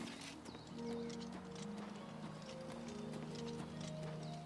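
Clip-clopping hooves of a horse in the game Oblivion near Cheydinhal, a quick, steady run of hoof falls with faint snorting, heard fairly quietly against low ambient music.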